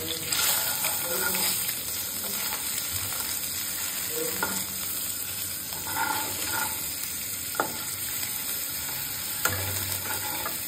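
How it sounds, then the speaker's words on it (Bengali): Boiled eggs fry in oil in a pan for an egg curry with potato and pointed gourd, a steady close sizzle with occasional clinks and stirring scrapes, no talking. "এবার ডিমগুলো ভেজে নেব"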